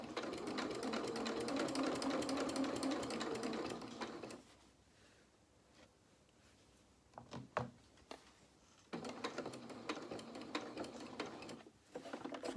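A sewing machine stitches bulky dungaree corners, running steadily for about four seconds, then falling quiet for a pivot with brief clicks, then starting up again for more stitching.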